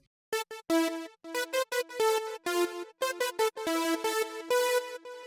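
A bright, brassy synth trumpet lead from a Spire synthesizer plays a quick staccato melody, each note followed by repeating delay echoes that fill the gaps between phrases.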